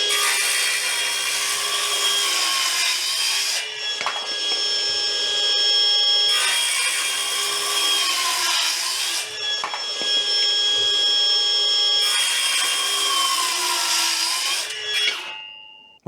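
A Milwaukee M12 cordless circular saw rips through 145 by 45 timber in three long, loud, steady cuts, its whine holding a bright tone as wood rasps under the blade, with brief pauses between passes and a spin-down at the end.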